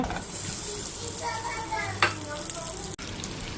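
Soft pitted dates sizzling steadily in hot ghee in a pan, a constant close frying hiss with small crackles and a brief stir, while someone talks over it.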